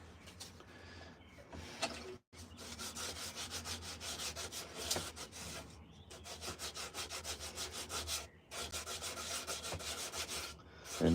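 Rhythmic, scratchy rubbing of sandpaper on a wooden spoon in a workshop, steady back-and-forth strokes close up with a couple of brief pauses.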